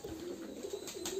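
Local giribaz pigeons at a pigeon farm give a soft, low coo, a couple of short murmuring calls heard faintly at close range with no one talking.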